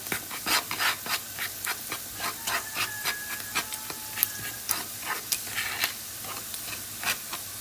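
Cumin, sweet paprika, pepper flakes and salt are stirred in a pan for chicken tantuni, producing rhythmic scraping strokes over a soft sizzle, close and fairly loud.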